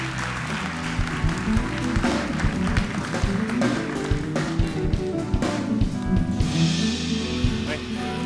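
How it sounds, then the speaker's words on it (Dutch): Studio audience at a late-night talk show applauds to welcome guests, a steady dense wash of clapping that runs throughout at moderate volume, blended with music or voices underneath. "Dames en heren, een hartelijk applaus voor Pim Takkenberg en Lodewijk van Zwieten."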